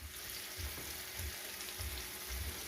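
A ribeye steak sears in a hot pan, giving a steady, soft, continuous sizzle and crackle with faint low rumbling pulses underneath, heard alone at low volume.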